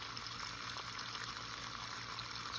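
Water gushes steadily out of a hot water heater drain during a flush, a constant faint rushing flow with no voices over it.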